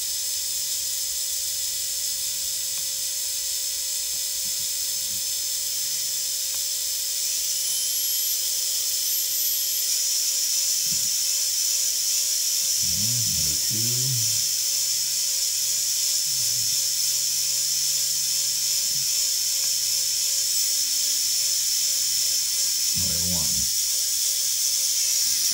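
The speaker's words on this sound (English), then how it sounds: "Motor three." Small Tarot 130 quadcopter motor, number three, spinning with a steady high-pitched whine and a little vibration, close and constant throughout, with brief talk and low knocks underneath.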